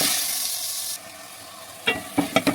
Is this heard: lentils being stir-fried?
yes